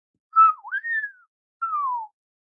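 A storyteller's voice imitating a chariot rider's whistle: a clear, solo whistled phrase with a short dip then rising tone, a brief pause, then a second falling whistle.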